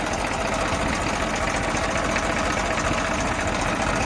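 A New Holland 3230 tractor's diesel engine idles close by with a steady, rumbling throb and constant mechanical clatter, no voices present.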